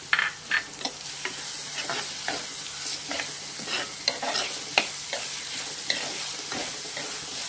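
Tomatoes and curry leaves are stirred in a frying pan over a constant close sizzle, with a spatula clacking and scraping the pan in an irregular run of about a dozen distinct knocks. No one speaks.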